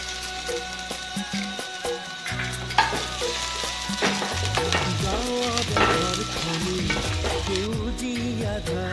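Ginger-garlic paste added to frying onions in a pan sizzles steadily up close, with stirring scrapes throughout and background music.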